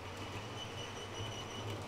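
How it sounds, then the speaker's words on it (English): Model railway train running on a layout with a squeaky wagon, a faint, steady rolling rumble with soft squeals, quiet and continuous. "We still have our squeaky wagon."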